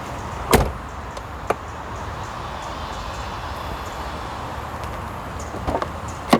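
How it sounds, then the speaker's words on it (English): A 1995 Mercedes-Benz S 320 long-wheelbase W140 closes its soft-closing doors in a few short, muffled thumps spaced across a quiet stretch, with a faint click of latches and low background hum. "All of the soft closing doors work"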